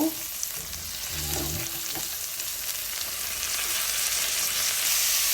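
String beans with garlic and meat sautéing in a pan, a steady loud sizzle and frying hiss running throughout. Brief clinks of a utensil stirring come early on, with no talking.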